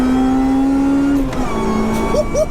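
A supercharged 316bhp Honda Integra Type R DC5 holds a loud, sustained engine note on a launch-control run, then the pitch drops and rises again as it pulls away, close and with no voices.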